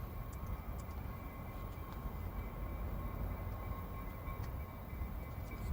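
A train rumbles past continuously as a steady low roar with faint metallic ticks and a high squeal, moderately distant and alone.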